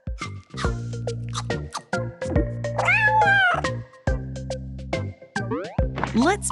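Cartoon cats in a pet care video game meow repeatedly, several bright, rising and falling cries spread across a steady bed of game music and effects.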